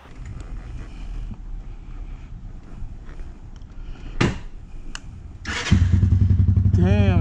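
Motorcycle fitted with a super loud aftermarket exhaust, idling with a steady low throb, then sharp loud revs and a burst that settles into a deep, louder rumble close to the microphone; brief voices mixed in.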